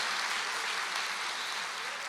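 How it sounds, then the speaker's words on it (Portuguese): A church congregation applauds throughout, a dense, steady wash of many clapping hands at close range with no break. "Pode aplaudir"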